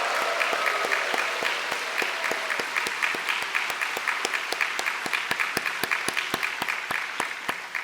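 A church congregation at a Thanksgiving Sunday family service in Bupyeong, Korea, applauds steadily with sustained, fairly loud clapping and faint cheering, with no voices standing out.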